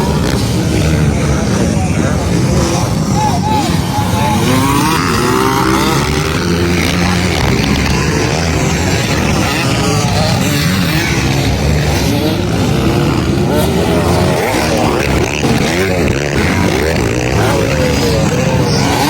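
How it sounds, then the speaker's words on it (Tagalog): Enduro motorcycle engines race in a local event in Valencia, Bukidnon, a loud continuous revving drone with shifting pitch filling the whole clip, with speech over it. "Ang motor nga gigamit ni si Koy of City Boys Racing Team"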